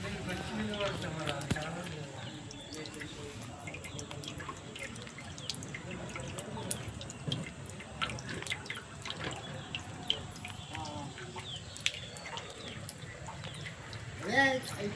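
Water dripping and spilling from a leaking water tanker in a residential quarters area, a steady pattering of drops and splashes running throughout, with people talking over it.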